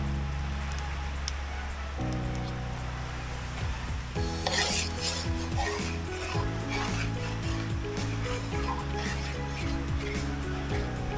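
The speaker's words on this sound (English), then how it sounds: "You gotta keep stirring, huh?" A long spoon stirring grated coconut in a pot while cooking it down into coconut oil on Mangaia in the Cook Islands, a steady scraping and rasping swirl over a constant low background hum, with no talking.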